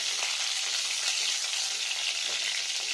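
Cauliflower fries in white oil with a loud, continuous close-up sizzle, a bright hissing crackle that holds steady with no voices.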